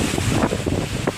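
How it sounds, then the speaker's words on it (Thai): Strong storm wind batters the microphone at a university campus during a storm, producing a continuous loud roar with gusty surges and rumbling buffeting throughout the short stretch. "ลมแรงมากเลย"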